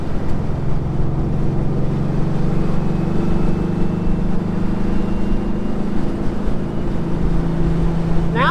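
Engine of a Speedster car drones steadily while driving, a low continuous hum with wind rush over it and a slight shift in pitch near the end, with no talk heard.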